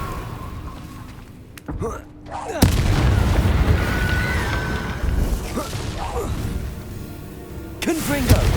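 A Confringo fire spell explodes in the Hogwarts Legacy video game, a loud booming blast bursting in around the three-second mark and rumbling on beneath the game's continuing sound and voices.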